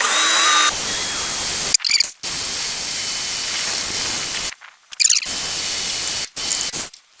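A power drill with a cheap drill bit whines and hisses loudly in several long bursts, stopping abruptly between runs with short silent gaps.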